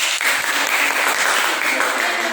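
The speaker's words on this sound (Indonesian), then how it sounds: "Oke, berikan tepuk tangan buat" Students in a classroom clap for a classmate who has just read a short story, a loud, close, dense round of applause that stays steady for a couple of seconds.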